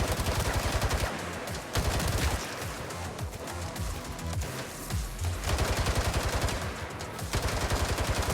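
Rapid automatic gunfire from a shooter game set in Mirage City, aimed at armored enemies: dense bursts of machine-gun fire with short gaps, loud and continuous across the whole stretch, with no talking.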